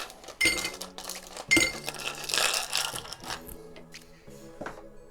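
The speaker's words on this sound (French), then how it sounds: "Et on va mettre pas mal de glaçons aussi dans notre verre." Ice cubes drop into a drinking glass for a cocktail, giving several bright, close clinks and rattles in bursts that settle into softer clatter.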